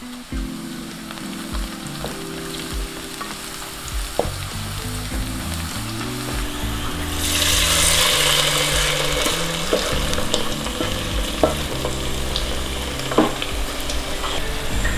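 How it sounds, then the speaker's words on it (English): Steady loud sizzle of sliced onion and curry leaves frying in oil for mutton sukka, with low rhythmic bubbling, occasional stirring clicks, and a brighter hiss partway through as leaves hit the oil. "Once the onion turns light brown, add handful of curry leaves. And now give a quick shot of mix."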